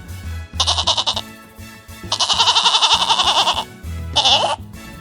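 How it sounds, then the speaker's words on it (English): A goat bleats in three loud, wavering bursts, the middle one long and drawn out, close by with short pauses between. "Goat."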